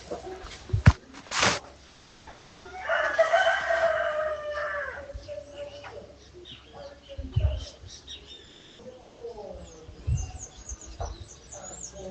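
A rooster crows once in a yard, a loud drawn-out call in the middle, with scattered bird chirps, clucking chickens and a few brief knocks around it.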